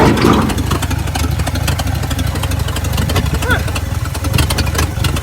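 A 1952 Ford F1 truck's flathead engine idling slowly and roughly, a low steady chugging throb that continues evenly without revving.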